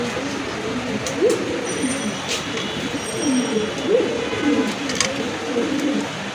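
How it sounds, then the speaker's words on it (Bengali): Pigeons of fancy and Rajgolla breeds, kept for sale, give soft, low, rolling coos repeated through a steady, busy background hiss, with faint occasional higher tones. "জোড়া কবুতর, এটা কি আমেরিকান ভাই?"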